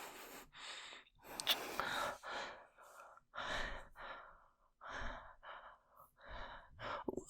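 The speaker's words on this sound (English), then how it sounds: "I'm breathing, I promise." Shaky, uneven breaths from a single nervous person, with sighs, gasps and sharp inhales in close, quiet bursts separated by short pauses.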